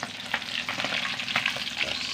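Matambaka fish frying in hot oil, a steady close sizzle and crackle with scattered pops, no voices over it.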